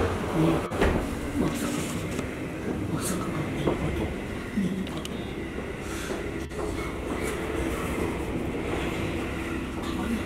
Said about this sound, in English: 千歳線特別快速エアポート号新千歳空港行きです。